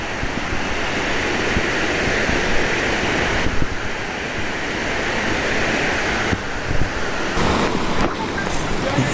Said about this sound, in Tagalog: Naririnig ko na ang agos ng ilog.